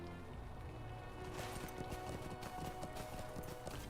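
A horse's hooves clip-clop at a steady trot in the video game Lord of the Rings Online, a rapid rhythmic patter under a soft ambient music bed, fairly quiet and continuous.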